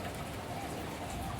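Rain falling in a steady, even hiss of dense drops, constant throughout the short stretch at low volume, with no voices over it.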